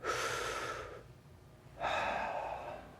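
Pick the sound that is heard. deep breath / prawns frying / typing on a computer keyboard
deep breath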